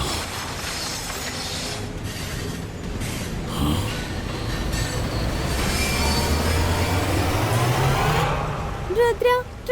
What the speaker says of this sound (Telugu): ట్రైన్ నీళ్ళ లోపలికి వెళ్ళిపోయింది